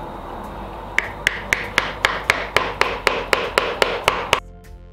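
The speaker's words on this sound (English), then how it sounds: "as we start to hammer these into the corners, it will tighten this up" Sharp hammer taps drive pieces into the corners of a wooden canvas frame, about fourteen evenly spaced blows in a steady rhythm, close and crisp, ending abruptly.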